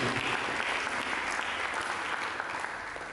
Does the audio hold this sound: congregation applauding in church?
yes